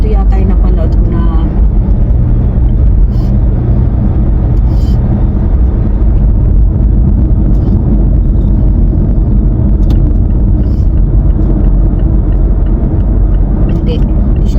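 Steady road rumble of a car in traffic as a hurried vehicle alongside speeds up, continuous engine and tyre noise with talk over it.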